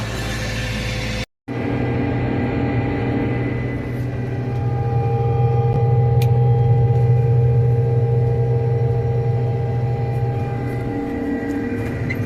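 A combine harvester threshing beans in the field, its engine a loud, steady droning rumble with a constant mechanical whine, heard close and continuously after a brief cut near the start.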